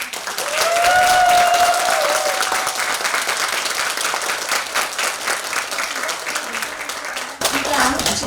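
An audience gives loud, sustained applause for a popera singer's healing concert at a university library lecture, dense clapping that runs throughout with a brief dip near the end.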